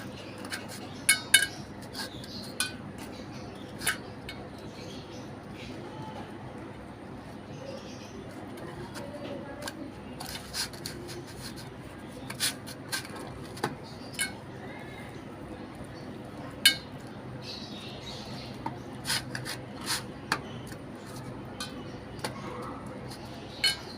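Fish is worked by hand in a bowl with turmeric, chili powder and salt, giving faint, steady handling noise broken by scattered sharp clinks of the dish over a long stretch.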